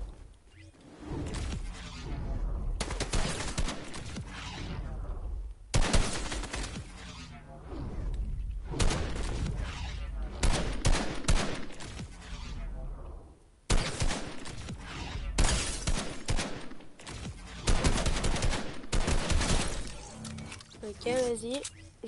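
Assault rifle fire bursts out in rapid volleys in Fortnite, loud sharp strings of shots broken by short pauses, with impact cracks and voices talking throughout.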